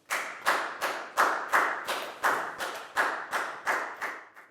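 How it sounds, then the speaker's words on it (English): A Year 4 maths class gives a round of applause in a classroom, about a dozen sharp, evenly spaced bursts of clapping, near and fairly loud, with no talking over it. "big round of applause"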